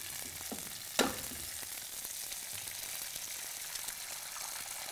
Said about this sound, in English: Crack an egg right in the middle.